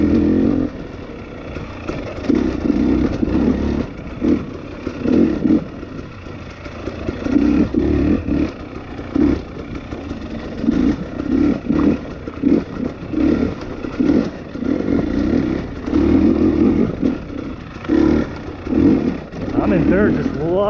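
A 2020 XC250 TPI two-stroke dirt bike engine lugs at low revs in third gear, a close, steady, throbbing drone with pulsing swells throughout, a rider's voice over it.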